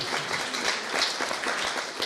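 Wedding guests applauding after a maid of honor speech, a dense steady patter of many hands clapping nearby, with no talking over it.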